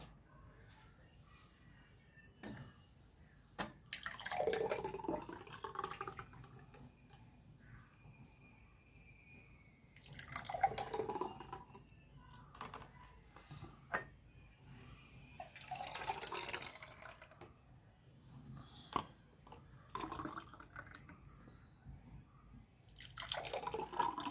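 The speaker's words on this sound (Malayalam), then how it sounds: "നമുക്ക് സ്മൂത്തി ഒഴിച്ചു കൊടുക്കാം കേട്ടോ." Ragi smoothie being poured into a glass topped with cherries, heard as several soft liquid pours and drips in short bursts separated by quiet pauses.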